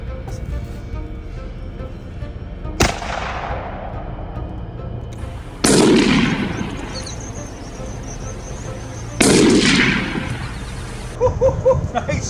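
Three loud rifle gunshots from a bear-hunting rifle, each a sharp crack with a long decaying echo, spaced a few seconds apart outdoors over a low background rumble; a voice speaks briefly.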